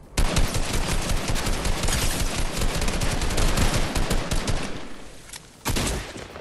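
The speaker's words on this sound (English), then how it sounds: "Oh, there's somebody shooting at us." Dense, continuous gunfire from the Fortnite video game, rapid overlapping shots filling several seconds with a brief lull near the end before another burst.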